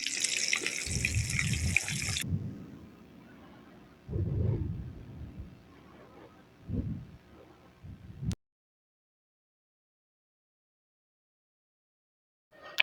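Chapli kebabs, here beef chapli kebabs, fry in a pan over medium flame with a bright, close sizzle for about two seconds, then softer low bubbling bursts before the sound drops to near silence.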